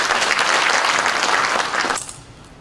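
Seminar audience applauds to welcome a National Assembly member, a dense burst of clapping that holds for about two seconds, then thins out and fades quickly.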